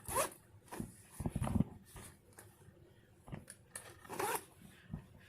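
Short scraping pulls on the vinyl-covered zipper of a Lyforaz low-profile hard shoulder bag, several brief bursts with handling rustle between them, heard up close.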